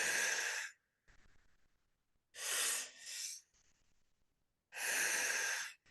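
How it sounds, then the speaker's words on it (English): A person takes deep, slow breaths during a guided breathing exercise, three loud, airy mouth exhales alternating with softer inhales, close to the microphone, with no talking. "Big inhale, filling up that belly like a balloon all the way up, expanding that chest, and then just blowing out of the mouth."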